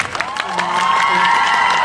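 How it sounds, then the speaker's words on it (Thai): A crowd at an award ceremony for an inspirational actor of the year breaks into applause and cheering, a steady, loud wash of clapping with whoops rising over it, close and filling the space. "ผมขอเสียงปรบมือให้พวกเขาด้วยครับ"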